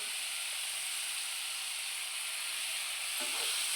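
Dry-coconut, garlic and ginger paste frying with onions in a pan for egg masala, a soft continuous hiss and sizzle, fairly faint, with a brief stirring scrape near the end.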